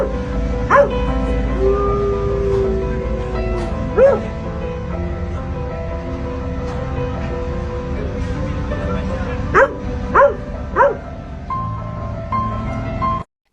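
A dog barks and yips beside a destroyed house in a war-damaged district, with a few short, separate barks rising over continuous narration and a steady low background hum.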